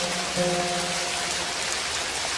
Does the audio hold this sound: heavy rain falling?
yes